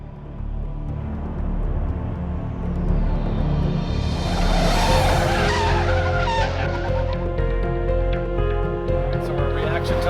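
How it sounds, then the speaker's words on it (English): A car brakes as hard as possible while still facing forward: engine rumble gives way to a rising, screeching tire squeal that holds to the end over a low road rumble, close and loud. "he comes off the accelerator and goes to the brake and stops as hard as he possibly can"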